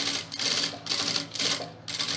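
A sewing machine stitches the lining of a framed bag pocket in short bursts of rapid mechanical stitching, broken by brief pauses, close and steady with no talk.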